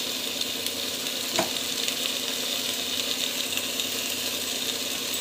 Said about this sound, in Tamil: ஸோ இதுவும் போட்டு நல்லா வந்து கலக்கி விட்டு நல்லா வதங்கட்டும்